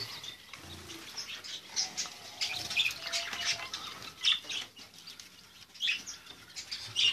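Java sparrows in a pet shop give scattered high chirps and squawks, with soft wing flutters and light rustling mixed through a quiet room.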